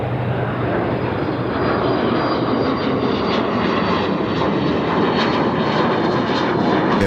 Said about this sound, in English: PG 915, wind 36 degrees, 7 knots, Alright. runway 34 left, clear to land.